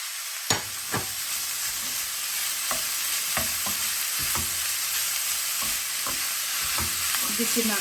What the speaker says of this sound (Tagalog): Igisa natin until become brown.